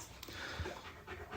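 A nervous dog pants in a laundry room while sheltering from Hurricane Ian, with quick, steady breaths close by, soft and continuous, and faint indoor background noise.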